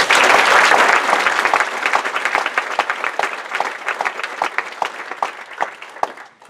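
An audience at a community meeting about a regional landfill applauds, a loud dense wash of many hands that thins into scattered individual claps before fading.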